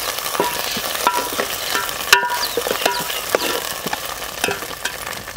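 Crushed garlic and dried coconut roast in a pan over a wood-fired stove. A steady close sizzle runs throughout, broken by scraping stirs and sharp clicks of the utensil against the pan, with no talking.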